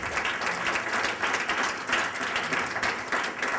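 An audience at a candidate forum applauds the candidates with steady, dense clapping that swells in waves. The applause stays moderately loud throughout and carries no talk over it.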